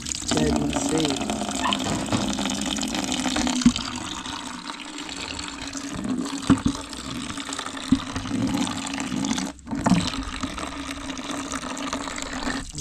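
Clean water runs steadily from a tank while a toilet is scrubbed with white powder soap, a continuous soft gushing stream with a few small knocks, under faint intermittent talk.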